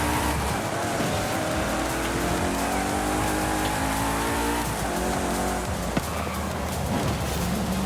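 An Ascari sports car races in Forza Horizon 5, its engine droning steadily with rising and falling pitch, tires squealing, and a constant wash of rain-like road noise throughout.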